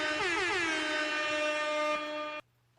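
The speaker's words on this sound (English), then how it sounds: "That's a reverse air horn." A reversed air horn blares loudly for over two seconds, its tones sweeping and swelling in a rising build-up before cutting off abruptly into quiet.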